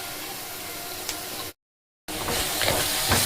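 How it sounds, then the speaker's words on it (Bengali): Ground poppy seed paste fries in mustard oil with a soft, steady sizzle and hiss close by, broken by a brief cut to silence midway before the frying resumes a little brighter. "এবার এটাকে ভেজে নেব খুব সুন্দর করে।"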